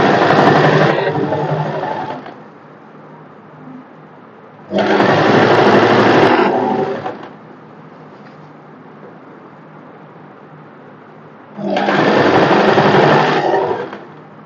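A sewing machine stitches fabric, folding a two-inch hem for an elastic casing, in three loud, steady runs of a couple of seconds each, separated by quieter pauses.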